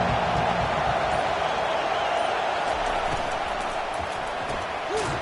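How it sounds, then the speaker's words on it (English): A college football stadium crowd in a Georgia dynasty video game roars in a loud, steady wash of cheering that continues unbroken throughout. "This crowd bringing an ear-splitting welcome to their visitors."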